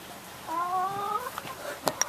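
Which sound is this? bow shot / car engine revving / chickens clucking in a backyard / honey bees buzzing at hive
chickens clucking in a backyard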